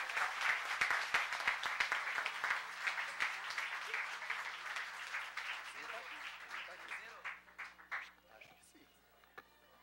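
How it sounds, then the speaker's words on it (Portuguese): Applause at a solemn civic session honoring veterans, many hands clapping loudly at first and thinning into scattered claps, with people talking in the background. "Vamos recebê-lo com uma grande salva de palmas."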